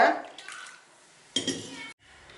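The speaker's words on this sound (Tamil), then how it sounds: "கொஞ்சம் கொஞ்சமாக தண்ணி சேர்த்து நல்லா விஸ்கு வச்சு ஃபஸ்ட்டு கலந்துக்கோங்க" A whisk stirs maida flour batter in a bowl as water is added little by little for sweet tea-shop bonda, making short wet sloshing and scraping bursts. A louder burst comes midway, then the sound cuts off.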